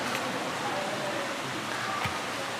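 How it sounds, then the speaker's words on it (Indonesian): Rain falls steadily, a soft, even, continuous hiss of drops with one faint brief knock and no speech over it. "Hujan mengarin nah."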